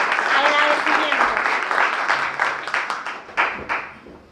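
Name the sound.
audience applause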